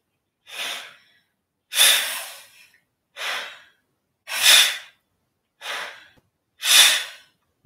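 Singers take quick, sharp breaths in a vocal warm-up exercise, seven or so separate loud, close intakes spaced evenly about a second apart, with silence between them.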